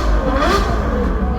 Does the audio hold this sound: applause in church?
no